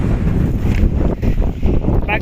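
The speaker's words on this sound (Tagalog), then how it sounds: "Grabe, lakas ang hangin." Strong stormy wind buffets a fishing spot during heavy rain, a steady loud roar of gusts and wind noise across the microphone with water and boat sounds mixed in, while someone talks over it.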